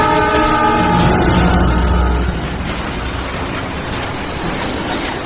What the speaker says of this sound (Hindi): ट्रेन आ रही है, ट्रैक से हट जा मेरे दोस्त!